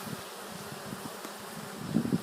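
Honey bees buzzing around a hive while the queen is being released, a faint steady hum with a few closer, louder buzzes near the end.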